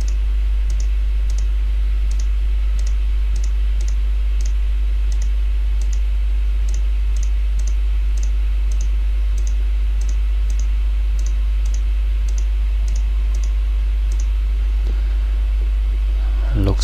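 Mouse clicks come in a steady, regular series while filling areas with a bucket tool in a paint program, crisp and close over a low constant hum, with no talk.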